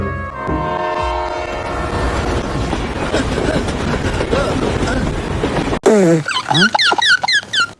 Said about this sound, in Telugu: అడవిలో నుంచే ట్రైన్ వచ్చింది